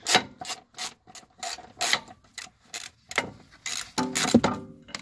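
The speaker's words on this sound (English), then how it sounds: "And now I will remove all the bolts that holds the plastic, the mud protection, into his place." Ratchet wrench clicking in short repeated bursts while backing out 10 mm bolts that hold the plastic mud protection under the rear bumper of a BMW E39, close and fairly loud with brief pauses between strokes.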